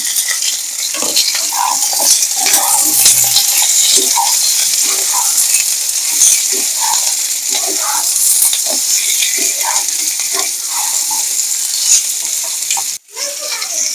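Pointed gourd and potato frying in a pan with onion added, a steady loud sizzle throughout with repeated scraping stirs and light clinks of a utensil against the pan.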